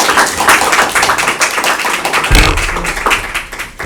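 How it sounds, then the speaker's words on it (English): A room full of people clapping at a town council meeting, a steady patter of applause that continues for a few seconds before tapering off. "I'm not used to that applause."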